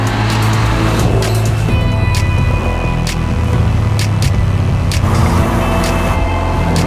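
A Porsche on a race track circuit in Leipzig, its engine droning loud and close throughout with steady revving and road rumble.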